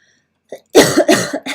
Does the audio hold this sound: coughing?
yes